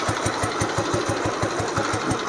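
A 1996 Royal Enfield Bullet Deluxe motorcycle engine idling close by, a steady low thumping beat of about five pulses per second with a rough, even exhaust note and no talk.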